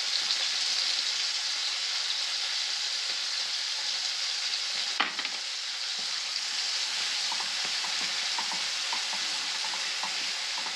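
Sorputi fish curry with mustard paste sizzles steadily in a pan, a dense continuous frying hiss with occasional stirring scrapes and one sharper clack midway, close and fairly loud.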